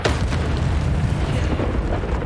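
An Incendio fire spell blast in the Hogwarts Legacy video game erupts as a loud booming burst that trails into a sustained rumbling roar, heard alone without talking.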